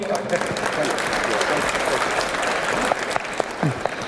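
Steady applause from an audience, dense clapping that holds at an even level throughout with no pause.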